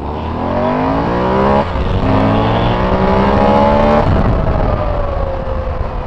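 BMW R 1200 GS motorcycle launching hard from a standstill, engine note climbing loudly through rising revs with a brief dip at each gear change, close and steady throughout.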